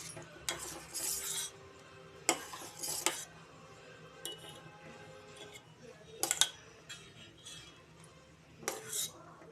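Metal utensil scraping and clinking against a pot while a mixture is stirred into milk for homemade ice cream, in short bursts of clatter separated by quieter pauses.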